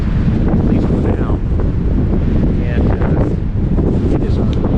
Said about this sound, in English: It is really windy out here today, kind of overcast, at least for now.